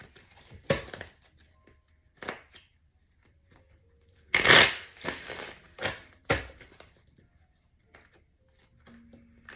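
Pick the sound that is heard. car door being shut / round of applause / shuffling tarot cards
shuffling tarot cards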